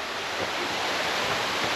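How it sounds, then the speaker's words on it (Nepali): The Panchkanya waterfall gives a dense, steady roaring rush of falling water, close and unbroken, with no voices heard. "पञ्चकन्या झरना रहेछ है ल आइपुग्यो है पञ्चकन्या झरना"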